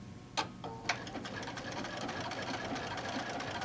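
A sewing machine runs a single blanket stitch along the edge of fabric for an alphabet letter block, a steady close whirring hum of the needle after a couple of sharp clunks at the start.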